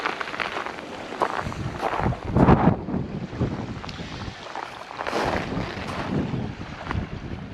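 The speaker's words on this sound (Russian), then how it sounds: "Ветер не сильный" Sea wind blows along the Taman coast in steady gusty rushes, with rumbling buffeting at the microphone that swells and eases throughout.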